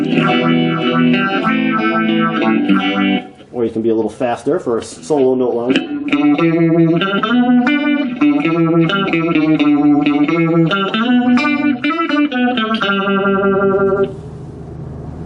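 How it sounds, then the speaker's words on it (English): Electric guitar played through a phaser on a VOX Mini GO 3 amp, sweeping swirly tones as single notes and a faster lead line, with someone speaking briefly partway through. "Next one we have is a phaser. Almost like an outer spacey kind of sound."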